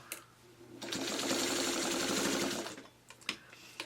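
A sewing machine stitches a quilt block, a near, steady mechanical whir lasting under two seconds and framed by a few faint clicks and handling noises before and after.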